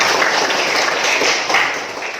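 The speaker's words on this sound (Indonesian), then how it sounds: "tepuk tangan dulu buat Ance." A class of pupils gives a round of applause for a classmate, a dense continuous patter of many hands clapping throughout that thins slightly toward the end.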